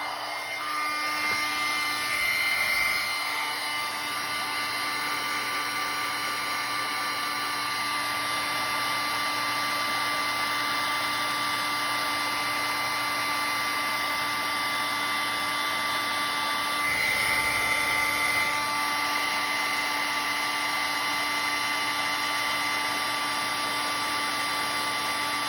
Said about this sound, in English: now I'm going to grab my heat tool